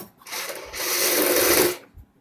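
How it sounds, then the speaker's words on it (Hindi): A sewing machine runs steadily while stitching the shoulder seam of a Punjabi suit or kurti, a brief whir followed by a longer continuous run, close and fairly loud, with no talk. "यहाँ पे सिलाई लगाएंगे।"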